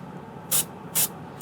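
Thinned oxide paint is sprayed onto a roof in two short hissing bursts about half a second apart, close and crisp over a quiet background.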